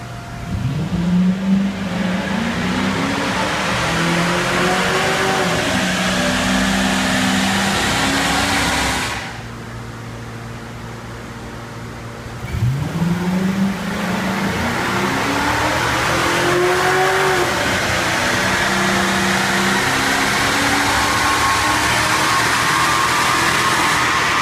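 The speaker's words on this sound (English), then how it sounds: "Now we're going to do a simulated 1/8 mile with Miles driving this car." A car engine on a dyno revs hard and climbs through the gears in a simulated eighth-mile run, drops to idle, then launches and screams up through the gears again, loud and close.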